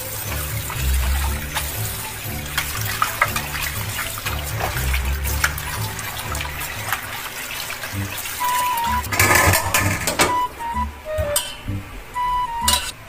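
Beef innards are rinsed under a running tap, a steady splashing water stream close by with shifting gurgles and brief clinks of handling, no talk.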